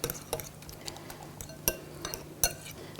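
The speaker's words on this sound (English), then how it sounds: "I'm just going to stir that around." A spoon stirs grated mozzarella and feta into a Mediterranean keto muffin mix in a bowl, with scattered light scraping and a few sharp clinks against the dish.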